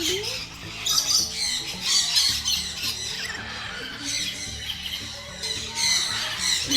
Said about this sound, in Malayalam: അപ്പോൾ നല്ല രസമില്ലേ കിളികളെ ഒച്ചയൊക്കെ കേൾക്കാൻ വേണ്ടിയിട്ട്